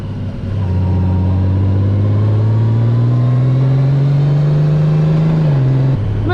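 A motorcycle engine hums loudly and steadily while riding, its pitch rising slowly as it pulls, then dropping near the end as the throttle eases, close and alone with no talk.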